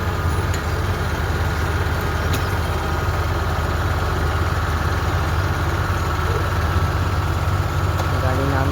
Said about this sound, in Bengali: গাড়ি নামাচ্ছে ড্রাইভার আমাদের।